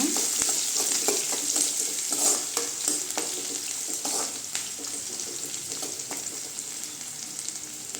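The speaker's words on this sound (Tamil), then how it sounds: "வெங்காயம் நல்லா வதங்கட்டுங்க." Onions with curry leaves sauté in a pan for idli upma, a lively close sizzle broken by repeated scraping stirs of a spatula, with no talking.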